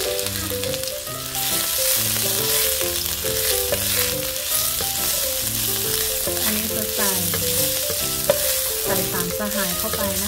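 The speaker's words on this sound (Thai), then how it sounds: "โอเคเดี๋ยวเราจะไปผัดกันนะคะ" Spring roll filling is stir-fried in a hot pan, giving a steady, loud sizzle with occasional scraping, and background music plays over it throughout.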